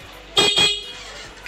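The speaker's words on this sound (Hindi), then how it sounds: "हॉर्न बज रहा है, सेल्फ लग रहा है" Two short horn beeps in quick succession from a Yamaha R15 V2 motorcycle under restoration, thin and high-pitched, close by over a quiet background hum.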